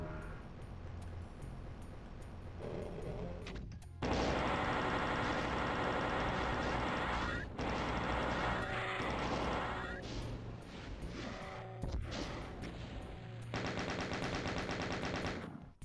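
Dense, loud gunfire from the PC shooter Doom II, continuous rapid weapon fire and blasts layered over game music and effects, with no voices.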